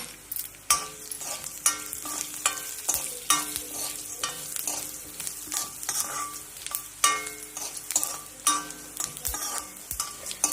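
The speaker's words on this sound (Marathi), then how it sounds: "1 वाटी धने आणि सेम वाटी प्रमाणात 1 वाटी जिरे. आता हे सगळं व्यवस्थित छान भाजून घ्या." Coriander and cumin seeds dry roasting in a pan while being stirred, giving rhythmic scraping sweeps and gritty rattles of the seeds against metal, close and fairly loud, repeating every second or so.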